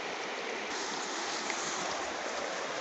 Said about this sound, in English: We've got a creek here